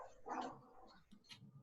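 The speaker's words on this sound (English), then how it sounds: "my dog's barking" A pet dog barks a few times at a distance, faint and muffled, with yips in a short burst and then quieter bursts in an indoor room.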